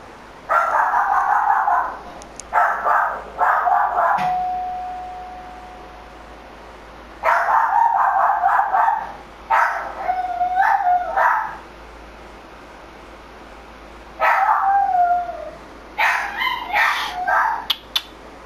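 A dog barks in several bursts of yips and barks, with one drawn-out howling note, loud and close, separated by quiet gaps.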